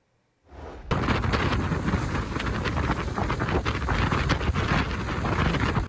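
Heavy rain and wind gusts batter Philadelphia during a powerful storm, a dense, steady roar of downpour and buffeting wind that kicks in abruptly after a brief quiet start and stays loud throughout.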